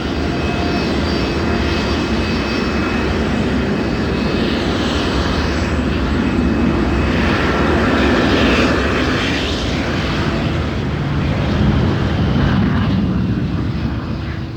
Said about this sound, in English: a plane is either taking off or landing every 30 seconds